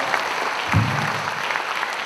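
An audience at the closing ceremony of an international short film festival claps in sustained applause for the award winners, a dense, even patter heard up close.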